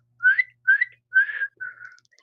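A person whistles four short, clear notes, the first three rising and the last one flatter, each separated by a brief pause, close by with no other sound behind them.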